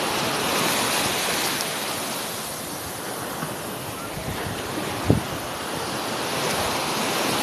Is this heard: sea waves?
yes